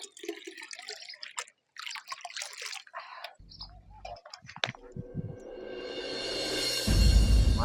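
Water is poured to fill a container, starting after a few scattered drips and knocks, then swelling into a steady gush that grows louder and rises in pitch as the vessel fills.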